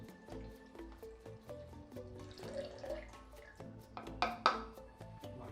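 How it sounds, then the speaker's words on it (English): Liquid poured from a bottle into the filter sump of a QETTLE boiling-water tap, trickling and gurgling in uneven splashes that swell toward the end, close and fairly quiet. "We then pour the whole contents of the bottle into the filter sump."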